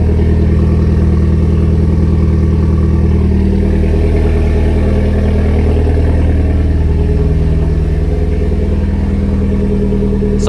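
A Mitsubishi Evo's engine runs steadily and loudly from start to finish, a constant close-up mechanical drone with no voices over it.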